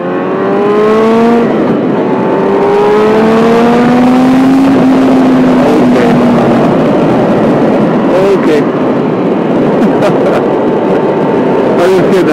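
A Yamaha R6 sport motorcycle being ridden, its high-pitched engine repeatedly climbing through the revs and dropping at each gear change, loud and close over wind noise.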